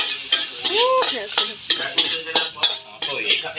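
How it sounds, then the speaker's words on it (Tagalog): Garlic and onion sautéing in a pan for chicken estofado, a steady sizzle broken by repeated scraping stirs of a utensil against the pan, close up, with a brief spoken remark early on. "Mahal, tayo ay magigisa na. Yan, lagay yung bawang at sibuyas."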